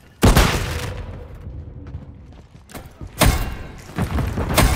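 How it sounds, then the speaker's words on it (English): Grenade explosion in Call of Duty: MW3: a sudden heavy blast with a long rumbling tail, then quieter battle noise, followed by another powerful burst of booming fire near the end. "Throwing grenade!"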